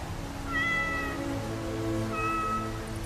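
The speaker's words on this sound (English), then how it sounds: "Oh, and Miss Kyle wants her cat back." A cat in a Batman '89 audio drama lets out two clear, close meows, a longer drawn-out cry followed after a short pause by a second, briefer one.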